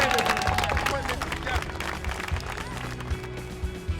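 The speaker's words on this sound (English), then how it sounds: "We can just give a round of applause to everybody on the stage." An audience gives a round of applause for everyone on stage at a police reform committee public comment session, with steady clapping that is loud at first and then thins, under voices and a low hum.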